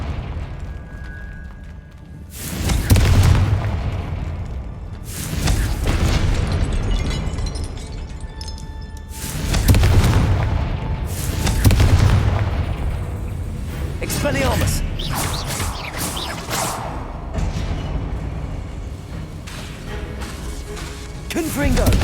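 Confringo fire spell blasts in the game Hogwarts Legacy: repeated loud booming explosions every few seconds, each with a long rumbling tail, overlapping one another amid ongoing action noise.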